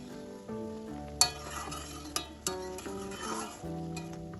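Milk and paneer gravy simmers and bubbles in a pan, a soft sizzle with several sharp clinks of a spoon stirring against the metal, fairly close and quiet with faint background music tones.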